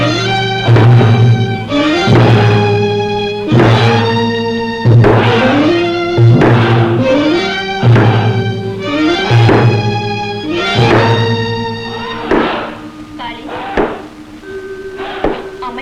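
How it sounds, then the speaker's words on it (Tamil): A large teak log is rammed by many men against a heavy temple door at night. Loud, booming blows repeat at a steady pace of about one per second, with ringing tonal overtones, then become irregular near the end. "இவ்வளவு பெரிய தேக்கு மரத்தால இத்தனை பேர் சேர்ந்து இடியா இடிச்சும் அந்த கதவு அசியலன்னா"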